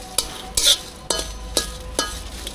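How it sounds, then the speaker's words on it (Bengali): Dried red chillies frying in hot oil for a sweet-sour-spicy green mango leather, a close sizzle with repeated scraping stirs of a spoon against the pan at a steady pace. "টক ঝাল মিষ্টি আমসত্ত্ব বানানোর জন্য কিছু শুকনো মরিচ আমি এখন তেলে নিচ্ছি"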